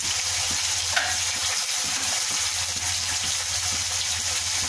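Chicken pieces coated in a masala of salt, turmeric, cumin, coriander and chili powder fry steadily in a pan, a dense continuous sizzle with faint stirring scrapes and no voices.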